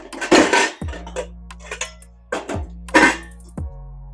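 A metal pot clanks and scrapes several times, with sharp knocks and a lingering ringing hum between the handling noises, close by.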